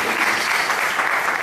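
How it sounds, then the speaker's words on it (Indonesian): Church congregation claps together at a Sunday service, a brief, dense burst of applause that stays level throughout. "Tepuk tangan bagi Allah."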